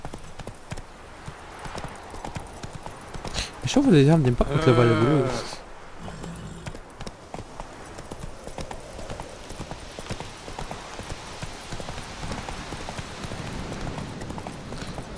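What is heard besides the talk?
galloping horse hooves in The Witcher 3 video game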